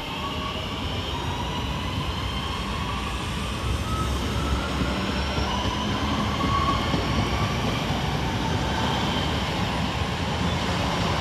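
A pair of West Midlands Railway class 323 electric units pass through Shenstone station, giving a loud, continuous rumbling roar with rhythmic wheel noise and faint squealing tones that holds steady for the whole stretch.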